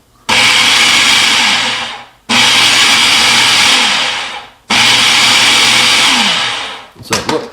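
A countertop blender pulsing a mashup of a Taco Bell Crunchwrap and Enchirito, three loud whirring bursts of about two seconds each with brief gaps between them, then a clatter at the end.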